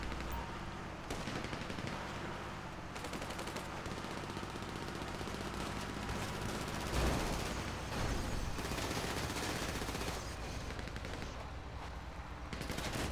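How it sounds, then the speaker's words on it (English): Sustained rapid gunfire in the video game GTA 5, a dense automatic clatter running the whole time at a fairly low, distant level with a heavier burst near the middle. "Sir, stop shooting me."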